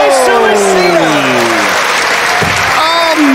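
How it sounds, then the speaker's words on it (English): Wrestling crowd roars and applauds loudly and continuously after a head-first suicide dive in a NOAH event, the cheering filling the whole moment with a commentator's voice over it. "this crowd has suddenly sprung to life"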